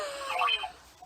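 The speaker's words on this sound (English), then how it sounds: "His alarm's going off." A bedside alarm clock going off with a short electronic trilling beep pattern, fairly faint and close, ringing alone without voices.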